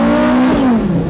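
A Porsche GT3 RS, originally a Canadian car, fitted with straight pipes revs loudly and close, its engine note holding steady then sliding down in pitch as the revs fall, with no talk over it.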